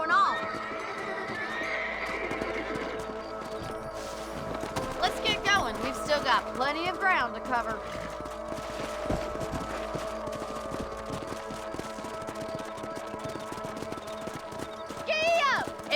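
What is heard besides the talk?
horses galloping, video game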